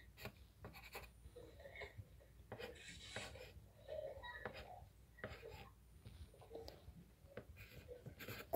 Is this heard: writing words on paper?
yes